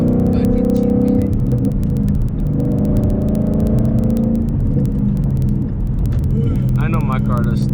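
A car engine at a car meet revs hard and steady with rough, uneven bursts that suggest a misfire, loud and close throughout, while people talk over it.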